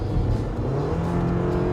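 Toyota RAV4 engine revving hard under acceleration, heard from inside the cabin as a steady, loud, somewhat tinny drone with a rising tone and no talking.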